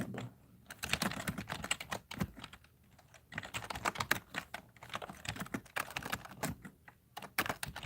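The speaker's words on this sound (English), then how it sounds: "I'm typing. If you couldn't hear the clickety clackety click." Rapid clicking of fingers typing on a computer keyboard, with uneven bursts of keystrokes and short pauses, close and moderately loud, no voices.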